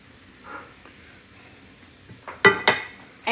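Japchae glass noodles and spinach tossed in a pot with a utensil: soft rustling, then a few sharp metallic clinks and knocks against the pot near the end.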